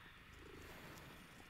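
A cat purrs softly and steadily in the video game Hogwarts Legacy, a quiet continuous rumble with no talking over it.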